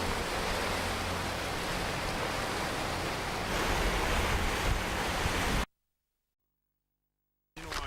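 Sea waves on a sunny day with blue water, a steady loud wash of surf close by for over five seconds before cutting to silence, then a brief return.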